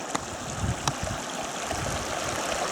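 A river flowing along a grassy meadow bivouac site in the mountains near Les Bouillouses, a steady broadband rush of water with a few brief knocks, fairly close and continuous throughout.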